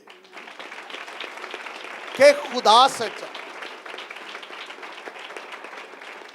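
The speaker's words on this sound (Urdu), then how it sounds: "ٹھیک تالی اس پہ بنتی تھی" A congregation at a sermon gives brief bursts of clapping, audible in a couple of short flurries under a preacher's continuing speech.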